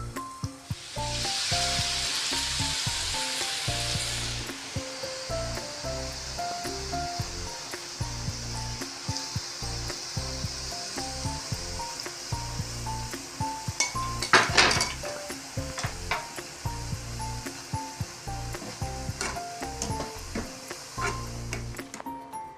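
Boondi frying and being stirred in hot oil in a pan, a steady loud sizzle throughout with frequent metal clinks of a ladle or slotted spoon against the pan, and a brief louder burst of crackling partway through.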